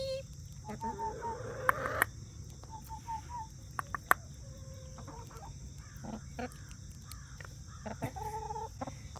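Pet chickens clucking close by in short repeated bursts over a steady low hum of background noise, with faint quiet sounds between the calls.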